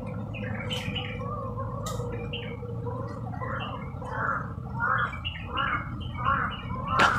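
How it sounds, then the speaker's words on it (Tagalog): Repeated harsh crow caws in a tense horror video game, a series of rasping calls that grow louder toward the end over a steady low background hum. "May uwak sila."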